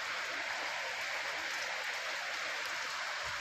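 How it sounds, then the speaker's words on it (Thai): Heavy rain pouring during a storm in Laos, a dense, constant hiss of drops on surfaces, steady and enveloping with no breaks or talking. "ฝนยังตกอยู่"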